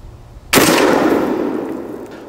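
A single sharp gunshot from a 10.5-inch 5.56 pistol fired at a backpack armor panel, loud and close, with a sudden crack followed by a long ringing decay, no talking.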